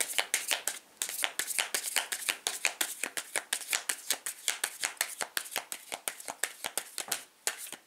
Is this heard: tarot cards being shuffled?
yes